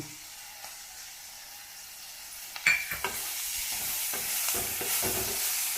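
Cumin, coriander leaves and curry leaves fry in a pan for ridge gourd chutney. A quiet start gives way to a sudden louder sizzle, then scattered scrapes and clinks of stirring over a steady hiss.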